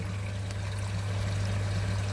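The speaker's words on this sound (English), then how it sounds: "the water's now running clear" Water rushes steadily from a pond bead filter flushing out during backwash, a constant close pour with a low hum underneath.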